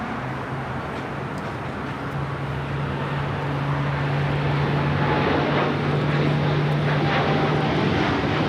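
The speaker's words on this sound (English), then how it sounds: "We do have a heavy now rolling down 25 right. Looks like another United Dreamliner." A United Airlines Boeing Dreamliner heavy jet rolls down runway 25 right at Los Angeles International Airport, a steady, loud broadband engine roar with a sustained low drone that swells slightly and holds throughout, with no talk.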